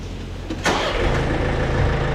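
An old tractor's dry starter catching and the engine firing up, a short burst followed by a steady low rumble of running, close by and without voices.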